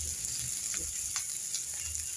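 Onion dropped into hot oil with cumin and fennel for a mixed vegetable curry, a soft steady sizzle with faint crackles and pops, quiet and alone.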